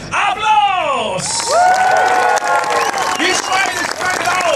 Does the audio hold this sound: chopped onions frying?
no